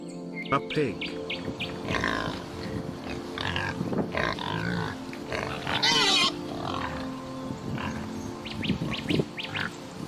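A pig grunting and squealing in several short bursts, close and moderately loud, with chirping birds and other animal noises around it.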